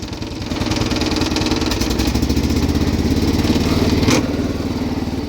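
A 1979 John Deere 216 lawn tractor with a welded-in-place variator runs in second gear, its engine a loud, close, steady chugging drone that briefly rises before easing back, with no voices.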